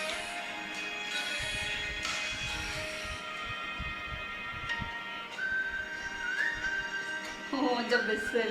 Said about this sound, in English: Oh, the whistle.